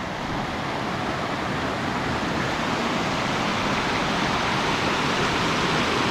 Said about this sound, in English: So it wasn't a waterfall, it's a creek